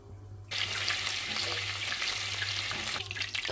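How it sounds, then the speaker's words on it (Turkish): Butter and olive oil heating in a pan for rice pilaf, a steady close sizzle that starts suddenly and hisses evenly throughout, with a low hum beneath. "Pilavımız için 4 yemek kaşığı tereyağıyla yarım kahve fincanı zeytinyağını kızdırıyoruz."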